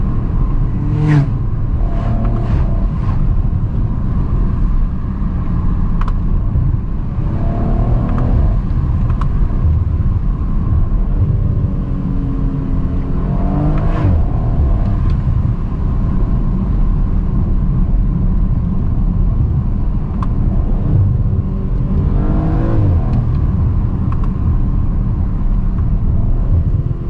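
A 2020 Audi RS4 Avant with a bi-turbo V6 accelerates hard from inside the car, its engine droning loud and steady with rising gear sweeps and brief shifts throughout.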